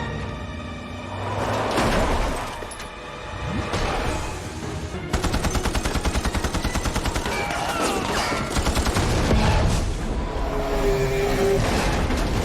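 Rapid bursts of automatic gunfire crackle over engine roar and rushing noise during a car chase, loud and dense, with shots repeating in quick strings.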